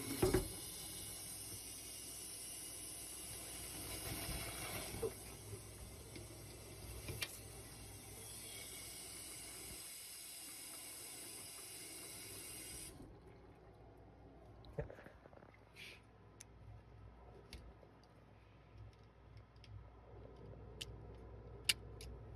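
A kitchen faucet and its sprayer run with a soft, steady water hiss for over ten seconds, then shut off, leaving scattered faint drips and clicks in a quiet room.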